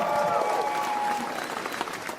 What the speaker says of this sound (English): All right, now round of applause.